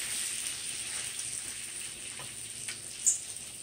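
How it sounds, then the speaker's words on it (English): Catfish teriyaki fries in oil in a titanium ceramic square pan, giving a steady, even hiss of sizzling close by with a couple of faint pops and ticks, and no voices. "you hear it sizzling away in the background"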